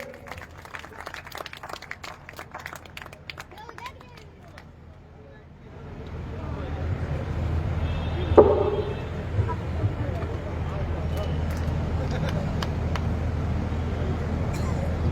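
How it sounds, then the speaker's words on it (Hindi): A crowd at a blood donation camp in Nawalgarh, held for Prime Minister Narendra Modi's birthday, breaks into a broad, steady wash of applause that lasts several seconds after an announcer's voice over background noise. "एक बार जोरदार तालियां भाई साहब के लिए"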